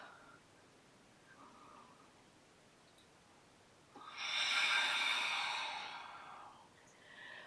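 A single deep breath during a yoga session, a long airy exhale rising out of quiet room tone and fading after a few seconds, with faint soft breathing before it.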